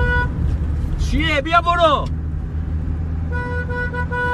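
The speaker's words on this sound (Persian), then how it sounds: "حالا چی بوق میزنی؟" A car horn honks in short toots at close range, with steady horizontal tones in the opening and closing seconds, while someone speaks sharply over road noise in the middle.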